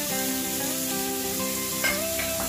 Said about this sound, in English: Now saute this amla paste in the oil for a few seconds.